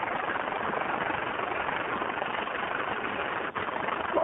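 A WWII-era aircraft engine from 1945 taxiing into takeoff position, heard as a loud, steady, rumbling drone that holds evenly throughout with only a brief dip near the end.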